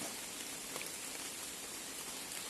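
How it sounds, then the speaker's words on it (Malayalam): Rain falls steadily through a forest, a soft, even hiss of drops on leaves and surfaces, faint and unbroken, with no voices. "ഈ മഴ കണ്ടോ നിൽക്കുന്നില്ല"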